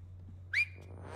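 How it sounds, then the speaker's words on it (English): A person whistles one short upward-sliding note while playing the video game It Takes Two, close and brief over a low steady hum, with no talk. "Just whistle."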